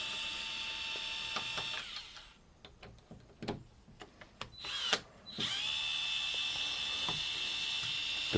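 A power driver removes screws from an old deadbolt, steady whirring runs at start and end framing a quieter stretch of clicks, taps and handling noises, close by with no talking.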